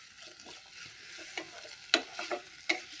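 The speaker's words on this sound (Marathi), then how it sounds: "आता आपण हा मसाला घालून परत छान परतवून घेतलेला आहे" Steamed potato pieces are stir-fried with masala in a pan: a quiet, close sizzle with repeated scraping and tapping of a spoon as the mixture is turned, a few sharper knocks standing out.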